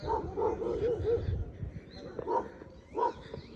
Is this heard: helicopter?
no